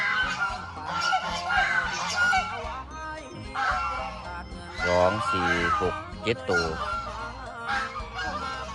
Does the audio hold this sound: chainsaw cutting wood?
no